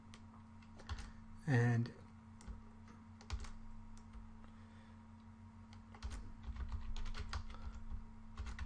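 Computer keyboard typing, soft scattered key clicks close to the microphone, with a brief spoken word early on and a faint steady hum beneath.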